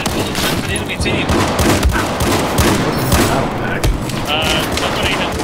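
Enemy gunfire in Battlefield 4 comes as bursts of rapid shots and dull booms over a busy game background, with someone talking during part of it.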